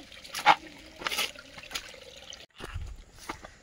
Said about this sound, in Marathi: वाटेवर मस्त पाणी वाहतंय.